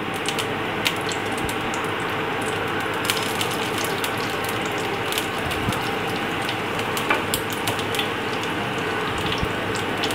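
Steady crackling and sizzling of fennel seeds frying in hot oil for egg samosa filling, with dense fine pops continuing throughout and no talking.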